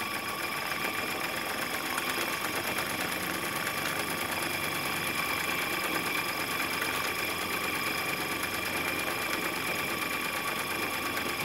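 A Jensen 55G model steam engine runs steadily with a pulsing beat, a continuous mechanical chatter and hiss that holds at an even level throughout, with no voices.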